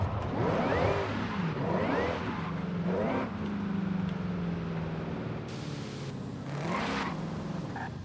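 A Ford Mustang Cobra R in Forza Horizon 5, factory stock apart from a sport exhaust and an added supercharger, roars steadily and loudly with rising and falling revs through shifts and acceleration, heard alone without talk.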